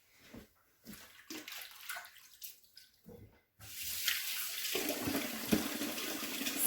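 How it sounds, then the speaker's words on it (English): Hands washed under a running kitchen tap while baking keto savory biscuits: short bursts of water splashing first, then a steady continuous stream of tap water, close and moderately loud. "I gotta wash my hands all over again"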